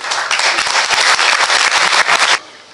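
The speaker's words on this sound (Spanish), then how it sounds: "Un aplauso para Francisco." Applause from an audience at a journalism forum, welcoming a newspaper journalist to the stage: steady dense clapping for over two seconds that cuts off sharply near the end.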